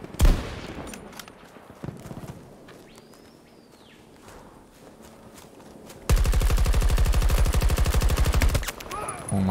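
Rapid automatic gunfire in the video game Battlefield 2042, scattered shots early on, then a loud, sustained burst of tightly spaced rounds near the end, with a voice talking at times.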